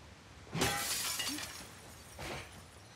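Glass shattering in The Last of Us Part 2 on PS5, one loud bright crash with a trailing tinkle of shards, followed by a second, smaller breaking burst.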